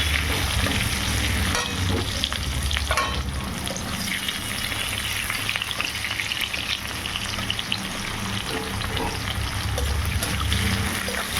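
Garlic paste sizzling in hot oil with onion and whole spices while being stirred in a pan for a Bengali muri ghonto, a dense, continuous, close frying hiss with scraping stirs throughout and no talking.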